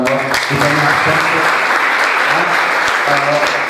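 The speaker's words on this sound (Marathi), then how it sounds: "ईश्वर फाउंडेशनचं जरा जोरदार टाळ्या करवा." A large audience at a scholarship distribution event claps loudly and steadily in sustained dense applause, with voices mixed in underneath.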